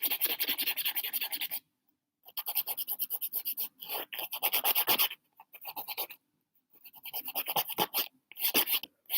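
A nail file rasps over fingernail edges in close, quiet bursts of quick back-and-forth strokes, separated by brief silent pauses.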